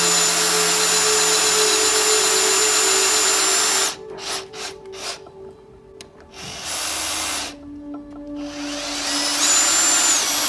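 A FAMAG German-made wood drill bit bores into wood, the power drill whining steadily at high speed, then cutting out in several short stops and bursts before spinning up again near the end.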